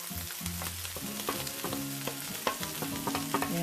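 Carrots and cabbage are stir-fried for spring rolls, a close, steady sizzle layered with scraping and clattering stirring strokes.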